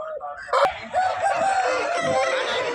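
Country rooster crowing at Nallapadu's native chicken market, one loud close harmonic crow with a sharp click at the start, over faint market background.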